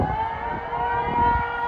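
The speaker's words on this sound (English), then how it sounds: "Sirens blared out across parts of Japan that were at risk" A steady, droning tsunami warning siren in Japan wails at a sustained pitch, loud and unbroken, with faint low rumble beneath.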